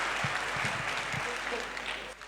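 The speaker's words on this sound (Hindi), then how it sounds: "तो एक बार शानदार ताली बजा के और" Audience applause at a Rajasthan state youth inspiration conference during a motivational speech, a steady wash of clapping from a large hall crowd that carries through and tapers slightly at the end, with no voices over it.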